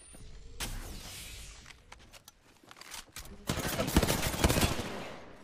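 Gunfire in the Apex Legends video game: scattered single shots and short bursts early on, then a dense stretch of rapid automatic fire near the end, with a voice talking in between.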